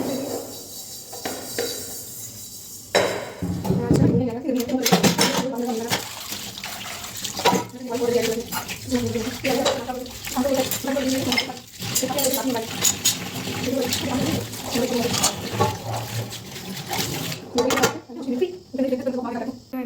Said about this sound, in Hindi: ऑलमोस्ट कढ़ाई लगी है, बस इसको साफ करूँ